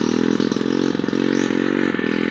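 A Pluton scooter's engine revs loudly and steadily while its rear wheel spins and slips on a forest track, with a rough scraping clatter over a continuous motor drone and no talk.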